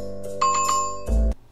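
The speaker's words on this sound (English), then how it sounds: "Hit that notification bell." A bright electronic notification chime rings out in a few quick, clear tones over a low hum, short and close, finishing with a brief low thump.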